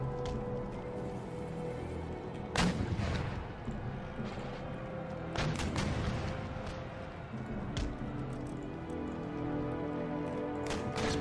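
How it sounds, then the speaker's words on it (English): Artillery pounds a fort during a siege battle in the video game Empire: Total War, with a few dull booming shots rising over a continuous rumbling battle ambience. "make my artillery crack open this fort anyway"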